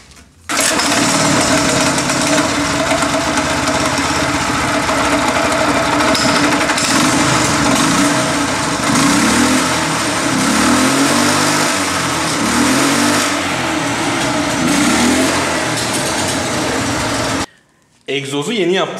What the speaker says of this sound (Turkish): Motoru çalıştırabilirim istersen.